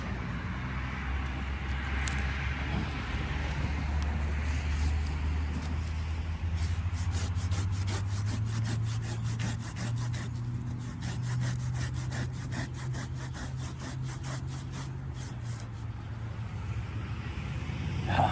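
A hand saw rasps through wood in the dirt in quick, even back-and-forth strokes, gritty and close, continuing steadily with a low engine-like drone underneath.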